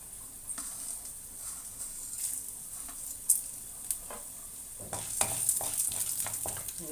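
Chana dal sizzles in hot oil as it is stirred, a soft steady fry with occasional scraping clinks that grow busier toward the end.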